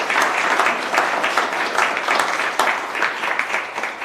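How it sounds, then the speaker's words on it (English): An audience applauds young people at a Monterey County youth jobs corps kick-off, with close, loud, dense clapping that swells and dips slightly across a few seconds. "Let's give them a big round of applause."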